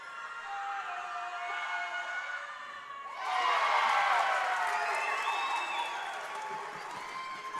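A high school varsity boys basketball crowd at Calvary Christian vs. Suburban cheers a made free throw, a steady gym murmur swelling into a loud, sustained roar of cheering and applause that lingers before easing slightly.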